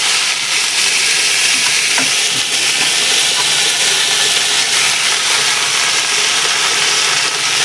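Leafy greens hiss and sizzle loudly in a hot pan, a dense, steady frying noise close up with a few faint stirring scrapes, no voices.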